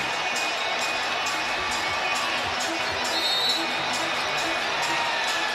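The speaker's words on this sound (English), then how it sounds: "it is a fired-up crowd here in Washington" A fired-up home crowd at a college basketball game in Washington, D.C., Michigan against Duke, makes a steady dense roar of cheering and whooping that fills the arena throughout.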